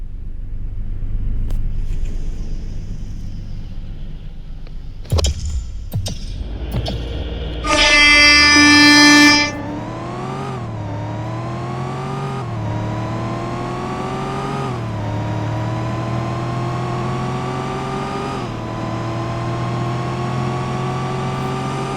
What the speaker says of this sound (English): I'm going to be quiet so you can listen to the good old Toyota Tundra